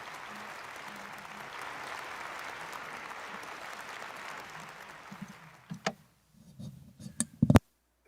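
An audience applauds at a peace prize award ceremony, steady dense clapping that thins out and breaks into a few scattered louder claps before fading away.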